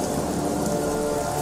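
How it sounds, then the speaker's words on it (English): Animated rain falls in a dense, steady patter, loud and close, filling the whole short stretch without any voices. "It's raining, man."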